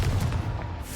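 A Confringo spell from Hogwarts Legacy, one loud, deep, rumbling boom that fills the whole short moment with no speech.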